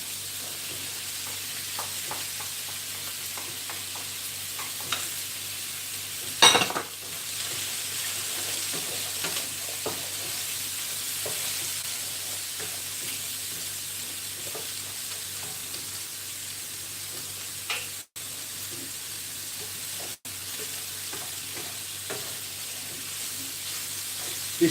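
Chicken and medium onion fry in a pan, giving a steady low sizzle and crackle over nearly half a minute with a brief louder clatter near the start and a couple of short dropouts, no talking.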